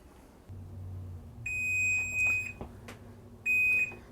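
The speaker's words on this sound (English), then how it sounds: "So there's my timer going off." A kitchen timer goes off as a homemade pizza finishes baking, sounding two clear electronic beeping bursts a couple of seconds apart over quiet kitchen background noise.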